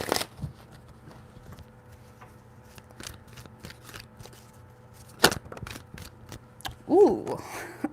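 Tarot cards being shuffled by hand, a run of soft papery riffles and flicks spread across the moment, close and fairly quiet, with a brief vocal sound near the end.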